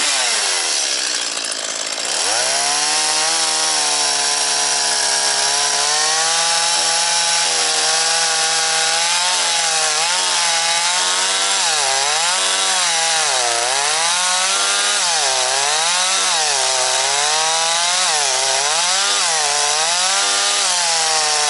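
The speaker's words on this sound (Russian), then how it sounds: "Я тут, кстати, не знаю, можно ли пилой с поднизу резать." A chainsaw cuts into a suspended log from underneath for firewood, starting with a short idle before a loud, continuous whine that wavers rhythmically in pitch as the chain bites and eases through the wood, up close and alone.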